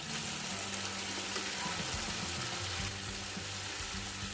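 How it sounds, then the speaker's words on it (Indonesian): Mini martabak fry in hot oil over a moderate flame, giving a steady, continuous sizzle and crackle heard up close, with faint background music underneath. "Goreng martabaknya dengan api yang nggak terlalu besar."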